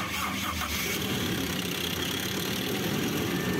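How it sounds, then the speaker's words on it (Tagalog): Toyota Revo engine idling just after starting, a steady, close, continuous rumble at even loudness throughout, with no talk over it. "At dahil okay na, pa-start ko na itong makina."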